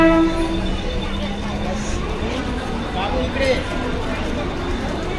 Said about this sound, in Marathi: इकडनं पण एक ट्रेन चालली आहे